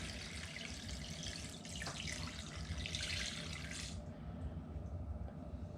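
Water runs steadily into a container for mixing rust remover, with a continuous splashing rush, close by, then the high hiss of the stream cuts off partway through.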